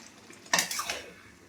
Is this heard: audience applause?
no